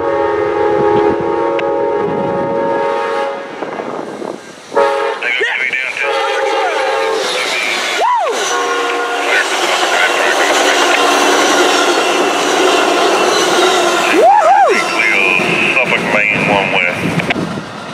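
Amtrak train 02E passing at speed with P42DC locomotive number 12 leading, sounding a loud horn blast with several tones over a steady roar of rolling cars, close by.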